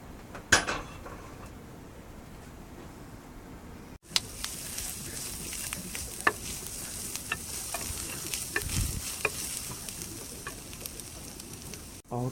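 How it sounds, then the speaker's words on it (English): Onions fry in a pan on a stovetop for a bacon jam, a soft steady sizzle with occasional stirring clicks and scrapes, close up and with no talking. "take the pan back over to the stove and fry up them onions until they're nice and tender"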